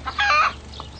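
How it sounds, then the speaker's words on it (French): A domestic hen clucks beside a farmhouse in a French village, a short burst of close clucking followed by a fainter single cluck, with no voices. "Et près de la maison, il y a la poule."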